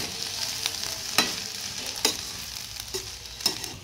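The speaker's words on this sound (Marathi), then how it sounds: "अशा पद्धतीने व्यवस्थित मिक्स करून घेऊया आपण।" Schezwan chicken fried rice is stir-fried and tossed in sauce in a hot pan. A constant sizzle runs throughout, broken by four distinct clanking scrapes of a spatula, close and without talk.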